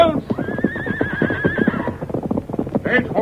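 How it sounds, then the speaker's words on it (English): Stagecoach horses whinny loudly in an old-time radio drama effect, a drawn-out wavering neigh riding over quick clip-clop hoofbeats of a galloping team, with a second whinny near the end. "Stage horses run away."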